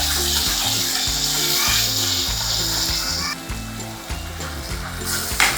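Masala paste of ground onion and garlic frying in hot oil, a steady bright sizzle running throughout with low background rumble, briefly dipping midway before resuming.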